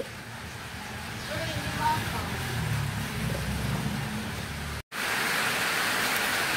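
Heavy rain pours outdoors, a dense continuous roar that cuts out for an instant and returns just as loud; a voice can be heard talking under it.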